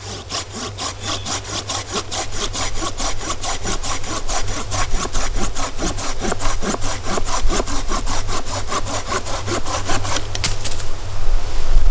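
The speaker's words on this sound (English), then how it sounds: "All right, let's do another cut with the Silky." A Silky Gomboy 240 folding saw cuts through wood in a fast, steady series of rasping strokes. It is close and continuous for about twelve seconds, and the cut finishes with a final scrape.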